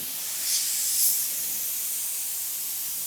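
An Iwata Neo airbrush sprays a steady, soft hiss as it lays down an intermediate line, with a slight swell near the start before settling into an even stream.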